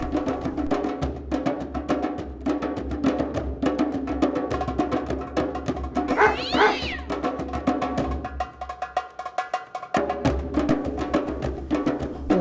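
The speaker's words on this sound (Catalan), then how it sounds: "Un gat." A cat meowing over a constant dense background of music, with one clear drawn-out meow standing out near the middle.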